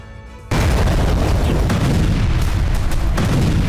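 A sudden, very loud explosion erupts after a quiet moment, followed by a sustained roaring rumble that stays heavy throughout.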